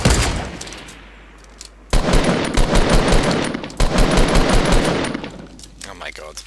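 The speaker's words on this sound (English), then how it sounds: "He's shooting at me." Bursts of automatic gunfire in the battle royale video game Fortnite, two long loud stretches of rapid shots split by brief pauses, with players talking over the action.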